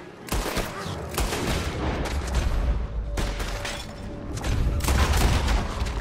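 Gunshots in Red Dead Redemption 2 crack out close and loud, with several heavy blasts standing out from a dense, continuous layer of rumbling in-game noise.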